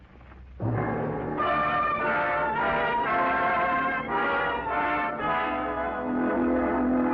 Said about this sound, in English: ringing the doorbell at Nick and Nora Charles' apartment